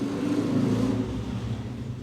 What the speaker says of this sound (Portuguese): fica passando essas motos aí, esses carros toda hora aqui